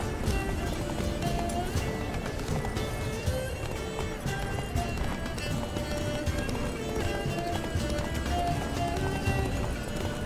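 Roach, Geralt's horse in The Witcher 3, gallops in a steady, continuous run with clip-clopping hooves under busy game music, and someone talks briefly over it.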